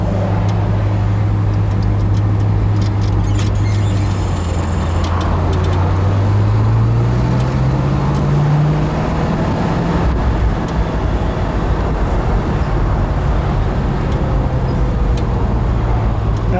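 A 1965 Pontiac GTO convertible cruises in fourth gear, its engine a steady, loud low drone under constant road and wind roar, with a rising then settling tone as speed changes.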